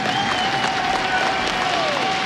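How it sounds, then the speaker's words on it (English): A large arena crowd at a Counter-Strike semifinal at ESL One Cologne 2015 applauds and cheers, a loud continuous roar of clapping. A tone sweeps through the noise. "I want a massive round of applause, not just for Olof, not just for Fnatic, but for VP as well."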